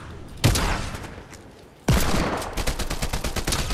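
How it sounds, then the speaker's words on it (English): Hand cannon gunfire in the Fortnite video game, with two loud sharp shots followed by a rapid, continuous burst of automatic fire, all close and with no talking. "I cannot hit with this hand cannon right now."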